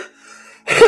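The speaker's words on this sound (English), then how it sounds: "excuse me, I had to clear my throat." A single short, close throat clearing bursts out after a brief quiet breath.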